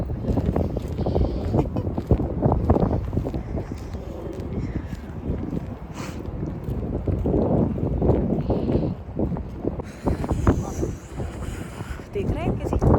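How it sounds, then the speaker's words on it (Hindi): Wind blows hard outdoors at sunset, buffeting the microphone in loud gusty rumbles that rise and fall across the whole stretch, while people talk underneath. "देख रहे हैं किसी हवा चल रही है"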